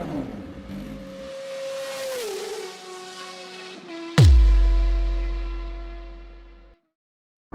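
An Italika V200 Adventure motorcycle engine held at high revs on a road, around 8000 to 9000 rpm, where it starts to ping or knock. The steady engine tone drops midway, then a sudden loud thump and low rumble follow, with no talking.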